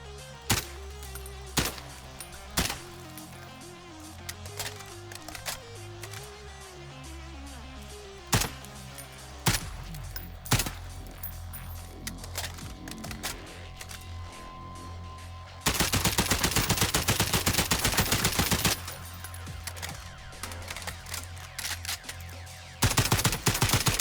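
An FAL rifle in Call of Duty Warzone fires sharp single shots and short bursts, then a long, dense stretch of rapid fire, loud and close, with no voices over it.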